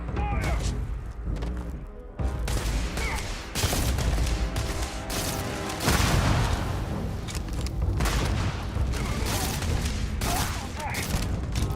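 Explosion and gunfire in the Starfield video game: dense, continuous bursts of shots and heavy booms with a big thump near the middle, loud throughout and layered with mechanical clatter.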